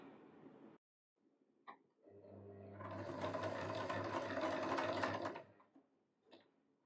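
An electric sewing machine stitching a buttonhole runs in a short burst, a steady mechanical whir lasting a few seconds after brief bits of talk, then stops, followed by faint clicks.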